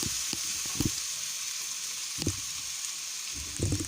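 Seafood paella ingredients sizzle steadily in a pan, with a few short scraping bursts as the mixture is turned and stirred, close and fairly quiet.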